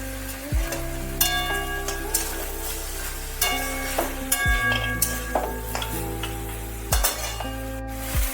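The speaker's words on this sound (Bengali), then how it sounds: "আমি দিয়ে দিচ্ছি বড়িগুলো, যেগুলো ভেজে রেখেছিলাম।" Fried lentil dumplings (bori) going into a sizzling pan of mixed vegetables with katwa stalks, with a steady frying hiss under repeated sharp metallic clanks of a spatula against the pan, several distinct strikes spread across the moment.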